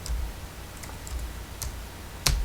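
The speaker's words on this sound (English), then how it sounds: "we added some connection by selecting VNC and typing the IP address" A few sparse, faint clicks of computer keyboard keys typing an IP address, isolated taps spaced irregularly over a quiet low hum, with one sharper keystroke near the end.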